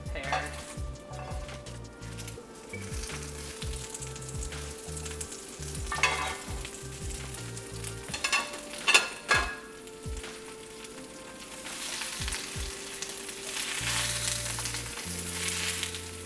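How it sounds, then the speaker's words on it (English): Chinese broccoli hitting hot oil in a pan for vegan pad see ew, crackling and sizzling steadily with scraping stir strokes and a few utensil clinks, the hiss swelling louder toward the end. "I'm going to add about a tablespoon of oil to the hot pan, and then we're going to add the Chinese broccoli that we prepared"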